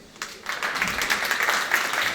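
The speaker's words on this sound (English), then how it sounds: "A warm applause, please." Applause from a conference audience welcoming a speaker onto the stage at a workplace talk, a steady broadband patter of many hands clapping that swells after a quiet start and holds through to the end.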